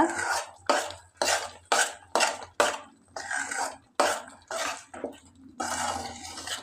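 Salt being stirred into thick mango thokku in a pan, a spoon scraping and squishing through the paste in a steady rhythm of about ten close, distinct strokes with no talking.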